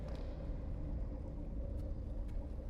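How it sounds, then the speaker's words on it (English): A constant low storm rumble from Silent Hill 2 Remake drones on without a break, dark and heavy, with faint brief noises on top. "Still hear the storm outside, unending."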